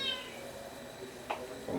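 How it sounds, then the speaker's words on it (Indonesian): A cat meows twice, short and fairly faint, over a steady room hum during an Islamic study lecture. "Itu kucing dipindah dulu."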